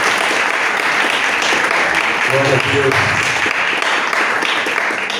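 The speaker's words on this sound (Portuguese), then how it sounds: "Vamos aplaudir ao Senhor." A church congregation at a worship service breaks into sustained, dense applause that fills the whole stretch, with a voice briefly speaking over it midway.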